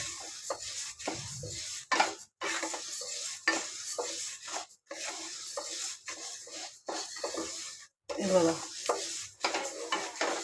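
Horse gram (kulith) dry-roasts in a pan over a low gas flame as a spoon stirs it in repeated bursts of scraping and rattling, each separated by short pauses, close and fairly quiet.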